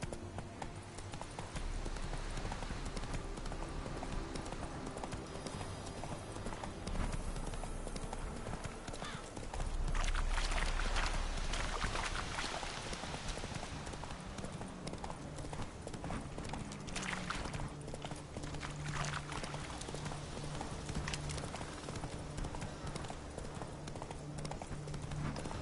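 Roach's hooves clip-clop continuously through The Witcher III's dense outdoor ambience, a steady moderate trot blended with rustling background noise and occasional louder swells.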